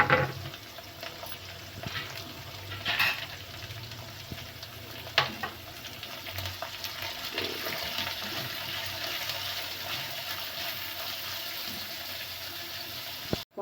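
Chopped onions, curry leaves and green chilies fry in oil for a bitter gourd fry, giving a continuous soft sizzle with a few brief clinks and knocks, no voices.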